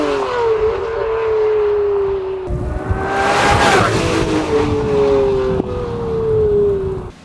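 A Lamborghini Murcielago LP640 Roadster with a gated manual gearbox drives fast in the rain, its loud engine rising and falling through gear changes over a constant wet road and wind rush.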